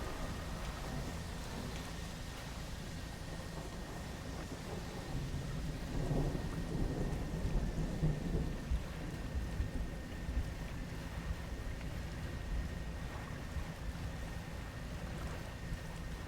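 In the fishing video game Dredge, a thunderstorm rumbles low beneath steady rain on the water, a deep roll swelling midway and then easing back into the constant downpour.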